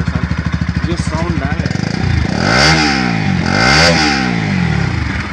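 A motorcycle engine revs hard twice, rising and falling close by, after a stretch of steady idling. A person talks over the start.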